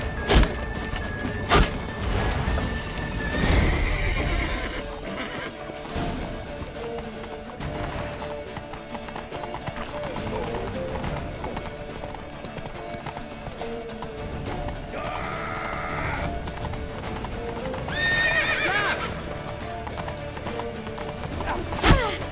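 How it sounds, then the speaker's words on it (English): Horses in The Witcher 3 during a chase to a temple: rhythmic hoofbeats clip-clop throughout, with loud neighs and whinnies rising over a busy music-and-effects mix, sharp thuds at start and end. "Grab a horse to the temple!"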